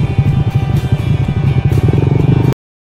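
A motorcycle engine running close by after stalling on a ride between bridges and falls, a loud rough pulsing idle that cuts off abruptly.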